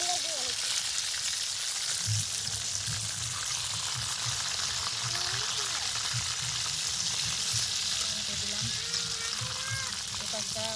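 Loach fish fins fry in hot oil, cooked village-style on the bank of the Jamuna river, giving a steady, dense sizzle that runs close and unbroken throughout, with faint background noise.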